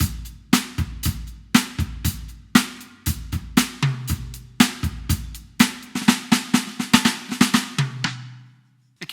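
Acoustic drum kit layered with Roland TM-2 trigger module soul sounds, a steady groove of punchy kick and snare hits with cymbal wash, loud and close with no talking, ending in a brief fade.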